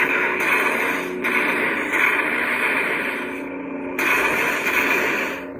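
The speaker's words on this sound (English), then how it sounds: "The blasts have a lot more depth and grit to them." Lightsaber blaster blasts from the Emperor sound font by JuanSith come as several loud, gritty, crackling bursts, each a second or so long with brief gaps between them.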